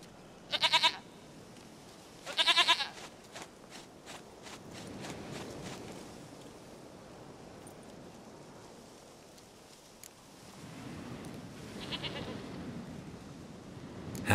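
A goat in The Witcher 3: Wild Hunt gives two loud, quavering bleats near the start, over a low outdoor ambience with faint footsteps and rustling.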